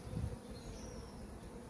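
Honeybees drone and buzz steadily on a brood frame lifted from a hive colony. The dense, close humming holds throughout with no speech.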